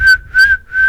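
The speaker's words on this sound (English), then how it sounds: "I'm whistling very well, I might add." A person whistles a steady, clear tone into a microphone, held close and loud, in three sustained phrases with short dips between them.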